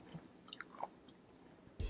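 Quiet close-up chewing of a crunchy snack from Whole Foods, with small scattered crunches and bites followed by a louder crunch at the end.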